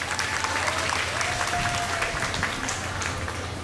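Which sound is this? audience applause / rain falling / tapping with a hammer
audience applause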